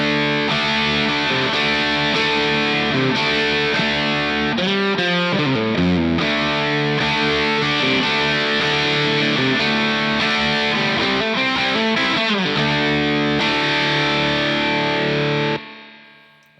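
Heavily distorted electric guitar through a Two Notes Torpedo cab simulator plays sustained chords and shifting notes, loud and thick, then cuts off abruptly near the end.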